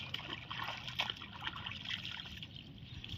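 Water from washing clothes trickles and splashes steadily down nearby, a continuous wet babble with small irregular spatters and no voices.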